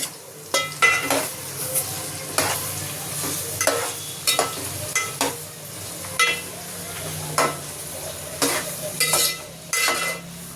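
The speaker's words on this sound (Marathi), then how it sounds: "आता हा कांदा जातो आपला फोडणीला" Onions sizzle steadily in hot oil as a utensil stirs and scrapes the pan in repeated strokes, with little talk.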